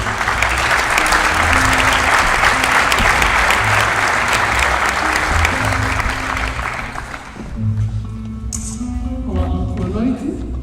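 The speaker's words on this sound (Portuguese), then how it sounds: "Um aplauso," Theatre audience applauding for about seven seconds at a magic act during a stage play, dense and loud, then thinning out as a few people talk over the fading claps.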